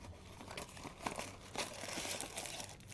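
Box for a four-camera car dash cam set being opened, with steady crinkling and rustling of plastic packaging and a few sharper tearing crackles, close up and fairly quiet throughout.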